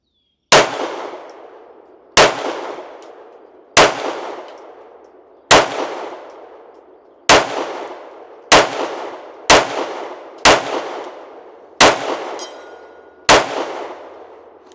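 Ten loud, sharp gunshots from a compensated concealed-carry pistol, fired one at a time at slightly irregular intervals of one to two seconds, each with a ringing decay and no talk between them.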